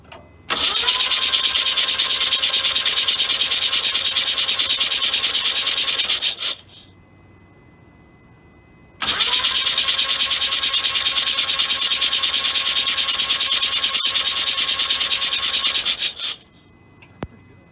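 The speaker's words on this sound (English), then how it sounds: "Time to turn it over with no spark plugs." A 1979 Mazda RX7 rotary engine cranks over with the spark plugs removed, making two long, steady, loud bursts of starter whirring, each about six seconds, with a short quiet gap between them.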